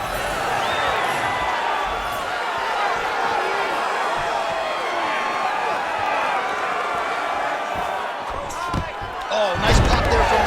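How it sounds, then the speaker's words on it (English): Dense, steady arena crowd roar at a UFC fight between Paddy Pimblett and Raul Rosas Jr., swelling into a louder burst of cheering near the end as a takedown lands, with commentary voices mixed in. "nice pop there from the crowd as he finally gets the takedown"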